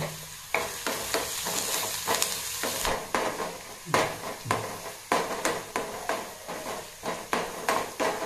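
Onions and a dried red chilli fry in hot oil in a pan, giving a steady sizzle with repeated close scraping and stirring strokes against the metal.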